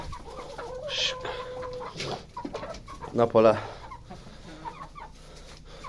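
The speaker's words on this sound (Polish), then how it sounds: "Wyganiamy kury." Hens cluck and squawk close by in short bursts as they are driven out of a henhouse, with a person speaking briefly in Polish over them.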